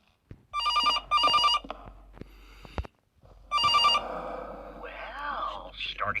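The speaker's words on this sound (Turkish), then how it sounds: "Telefon çalacak." In a horror video game, an old-style telephone bell rings in three sharp bursts, loud and close, followed by a low hum and a rising electronic whine.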